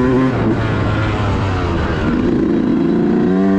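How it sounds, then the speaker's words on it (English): A 2018 Yamaha YZ125 two-stroke dirt bike engine runs slightly rich, a loud, close, continuous gargling idle at low RPM with uneven pitch wobbles. "Two strokes will make that gargling sound at low RPM, but I know for a fact this one's running a little rich."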